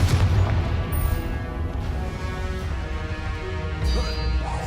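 A Confringo fire spell explodes in the Hogwarts Legacy video game, giving a loud, rumbling booming blast. It stays dense and sustained throughout, swelling again near the end, with no talking over it.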